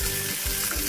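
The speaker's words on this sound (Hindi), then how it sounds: "अभी हम इसको सॉटे करेंगे।" Vegetables being sautéed in a pan for bread pizza give a close, steady sizzle with faint stirring scrapes, brief and continuous.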